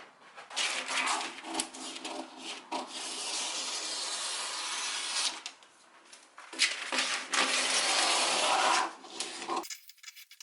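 Scissors or a cutter work through linen fabric to cut out shorts pattern pieces, giving a close, dry rasping and rubbing in two long bursts, with a short pause between them and an abrupt stop near the end.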